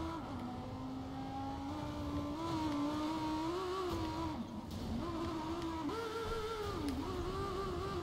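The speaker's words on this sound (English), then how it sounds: "My car is making weird noises." A car engine in Watch Dogs 2 drones steadily and rises and falls in pitch as it revs, running continuously for several seconds at moderate loudness.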